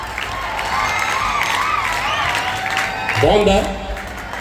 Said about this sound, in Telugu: చప్పట్లు కొట్టండి చార్లెస్ డార్విన్కి